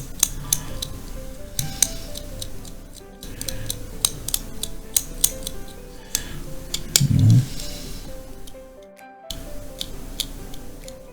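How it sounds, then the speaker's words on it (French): Plastic parts of an Italeri Sherman M4A3E8 Fury model kit are scraped at the cut points with a cutter knife, giving small, sharp ticks and scratches at close range, irregular and fairly quiet, with no talking. "Des endroits où même on peut les gratter avec le cutter, les endroits de coupe, là."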